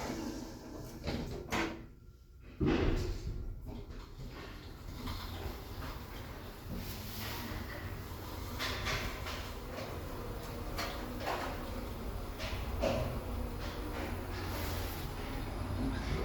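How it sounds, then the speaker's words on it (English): OTIS Gen2 elevator doors at Liverpool ONE slide shut with a soft rumbling glide and a couple of faint knocks, then the car's low hum continues quietly. "Please stand clear of the closing doors."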